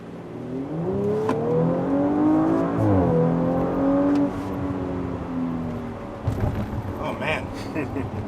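A 2018 Audi RS5 engine revs up and drops back as the car downshifts, the loud close engine note sweeping in pitch, then settling into a rougher rumble.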